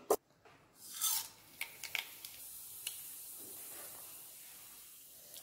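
Mustard seeds and urad dal temper in hot oil for onion kosu, giving a soft, steady sizzling hiss with scattered small pops and crackles, quiet and close, with no talk.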